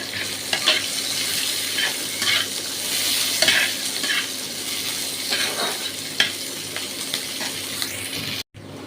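Black cumin, chopped onion, ginger, garlic and green chili fry in hot oil with a loud, steady sizzle, stirred with repeated scraping strokes; the sound cuts off abruptly near the end.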